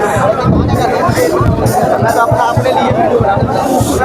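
A crowd gathers at a hunger-strike protest at Jantar Mantar in Delhi, steady loud babble of many voices close by with some individual talk audible over the hubbub.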